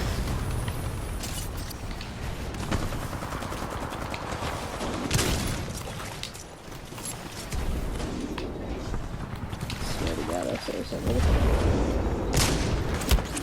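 Rapid pistol fire in the video game Titanfall 2 comes in dense, repeated bursts of sharp shots and booming impacts, loud and close over a busy battle soundscape.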